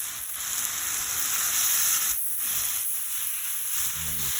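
Butter melts into a hot pan with lemon garlic rosemary prawns, giving a bright continuous hissing sizzle close up, steady and without voices.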